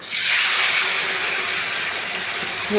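Food dropped into hot mustard oil in a pan for a Bengali doi lote (yogurt fish) dish, giving a loud, steady hiss of frying that holds at full strength for the whole few seconds, with no talk over it.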